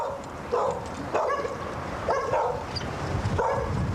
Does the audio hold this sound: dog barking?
yes